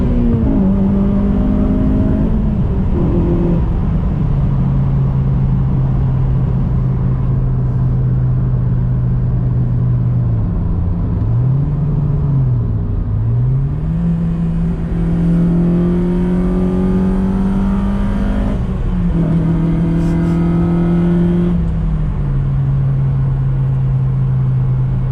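A JDM Honda FD2 Civic fitted with a GruppeM induction kit on a night road test, its engine droning loudly and continuously with rising and falling revs, intake noise rising with each gear change and no talking.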